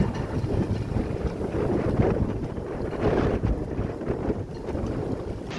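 Strong wind roars and buffets the microphone continuously aboard a boat, a dense rumbling gust noise with waves breaking over a breakwater and boat sounds mixed underneath.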